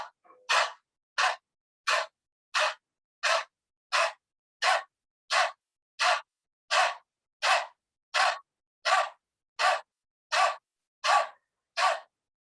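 A person doing the yoga 'dog breathing' exercise, imitating a dog's panting, pants rapidly through the mouth: a long, regular series of sharp, breathy huffs, evenly spaced and close, with nothing else heard.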